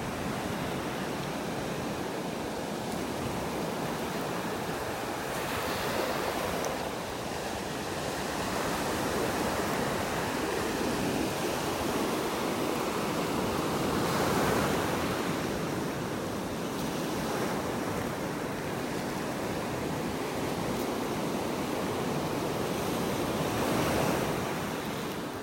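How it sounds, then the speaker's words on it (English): Ocean waves break steadily on a beach in North Naples, Florida, a continuous wash of surf with soft swells rising and falling, plus light wind noise on the microphone and no voices. "Close your eyes and listen to those waves."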